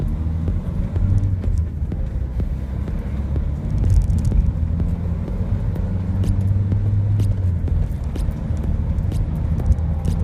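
Low, steady engine rumble from inside a moving Opel Vivaro van (115 hp), road noise droning evenly with a slight rise in pitch as it accelerates.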